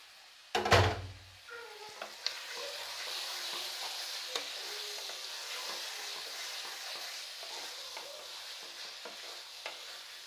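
Mutton liver curry stirred in a pan on the stove, a hard scrape at the start and then a steady, close sizzle with faint utensil knocks now and then.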